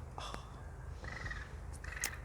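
A crow caws nearby, a few short raspy calls spaced across a moment over a low steady background hum, fairly faint and outdoors-sounding.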